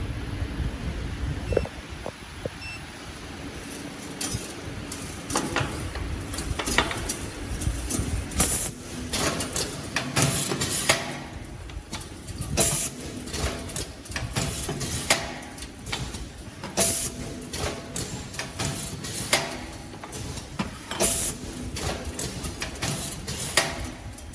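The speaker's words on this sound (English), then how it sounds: "These machines have auto mode, can continue to keep inserting." Semi-automatic wick inserting machine running in auto mode, putting wicks into candle jars: irregular mechanical clacks and thumps in a steady working rhythm over a continuous motor hum, close and moderately loud.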